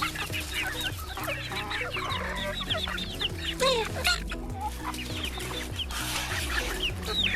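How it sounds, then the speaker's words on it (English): Free-range chickens cluck close by in quick, repeated bursts, with a rooster's call and scattered higher bird chirps mixed in, no talking. "Mr. Rooster here, Dr. Love."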